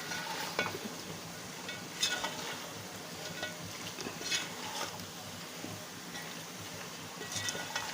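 A spoon scrapes and stirs green chillies, tomatoes and onions in a pot, with soft irregular clinks and a low sizzle running steadily and fairly faint throughout.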